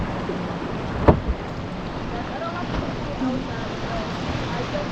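A kayak paddling through choppy water on Lake Superior at Pictured Rocks National Lakeshore, with steady wind and lapping waves around it and a sharp knock of the paddle against the hull, near and moderately loud.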